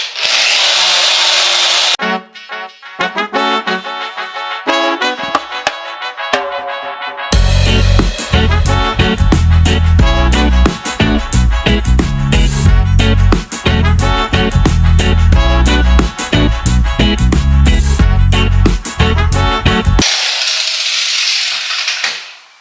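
A loud, steady mechanical whirring of a car polishing machine at slow speed runs almost continuously on a Porsche 996 windshield glass, its pitch and texture shifting as it works across the surface.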